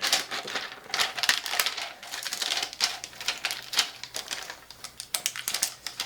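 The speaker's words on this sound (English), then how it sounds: "take your shrink wrap and tape it around." Plastic shrink wrap is taped around a sublimation coffee mug, giving close, dense crinkling and crackling with rapid tape ticks and rustles throughout.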